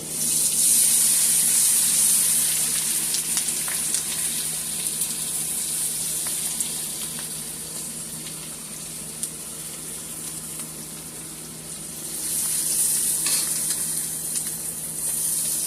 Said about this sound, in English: add the rest of my butter. To the pan.